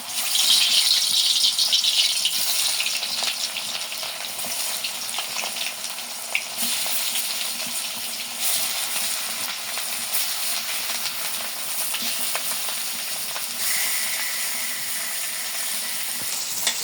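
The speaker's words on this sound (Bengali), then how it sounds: "মাছ ভাজা শেষ আমি নামিয়ে নিই।" Fish frying in a pan, a loud continuous close sizzle with occasional clinks and stirring scrapes, steady throughout with no voices.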